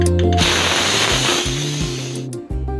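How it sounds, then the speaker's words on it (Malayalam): Steam vents from a pressure cooker of Kerala-style chicken stew with potatoes and carrots. A loud continuous hiss with whining tones runs for about three seconds. "ഇനി നമുക്ക് സ്റ്റീം കുത്തിക്കളയാം."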